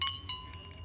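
Small metal bells on an ocean-themed wind chime being handled, giving two or three bright, thin clinks that ring out and fade softly, heard close with no talk.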